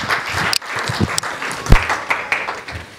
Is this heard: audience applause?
yes